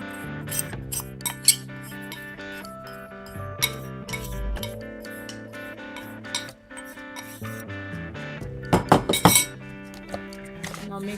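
Milk powder mixture being stirred in a bowl for Bengali sondesh, with repeated clinks and scrapes of a utensil against the bowl close by and a few sharper taps near the end.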